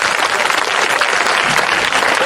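Schoolchildren applaud at a flag-raising ceremony in a private school courtyard, a dense, steady wash of many hands clapping together, loud and close throughout with no pause.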